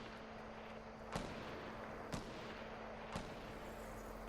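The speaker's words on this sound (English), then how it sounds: "I think they're shooting at somebody else." Gunfire in a battle royale video game: three faint, evenly spaced distant shots about a second apart over a steady low hum, with no voices.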